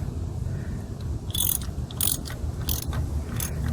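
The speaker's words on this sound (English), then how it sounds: "I'm going to grab my wrench, tighten it up" Wrench ratchets a spark plug tight on a 2005 Nissan Sentra, a few short bursts of clicking over a steady low background hum, close by with no talk.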